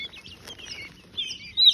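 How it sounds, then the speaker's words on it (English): Tiny quail chicks, hatched only the night before on a farm, give high thin peeping chirps in brief bursts, sparse at first and then louder and closer near the end, with no talking. "Here is the smallest bird on the farm. Sweet little quails."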